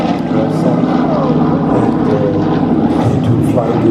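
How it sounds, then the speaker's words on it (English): A Douglas DC-3 Dakota propeller transport aircraft flying at the Flying Legends airshow drones steadily with a throbbing piston-engine hum, while a commentator talks over it. "The DC-3, the Douglas, the Dakota in military terms."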